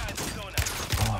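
Gunfire in the battle-royale shooter Warzone, a few short bursts of shots near the end, mixed with game noise under a busy background.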